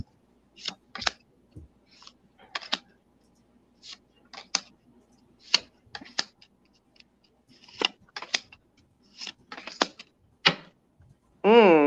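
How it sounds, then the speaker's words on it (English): Tarot cards are laid out on a table in soft, scattered slaps and flicks, a dozen or so brief sounds spaced irregularly, close by, with a short burst of voice at the end. "So let me get my cards laid out here."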